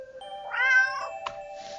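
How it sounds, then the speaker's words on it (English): A stray cat in a dirty old alley lets out a drawn-out, close meow with a rising and falling pitch, then a short faint chirp, with no voices. "with a stray cat comforting me"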